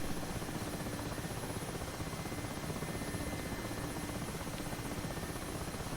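Mi-8 Hip helicopter in the DCS World flight simulator, a steady, dense rotor and turbine drone holding at constant loudness for the whole stretch, with no talk over it.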